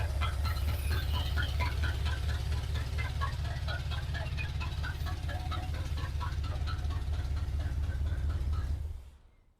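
1980 Chevrolet C10 square-body truck idling through open exhaust headers, a loud, steady lumpy rumble with a rapid uneven pulse that runs continuously and then cuts off abruptly at shutoff.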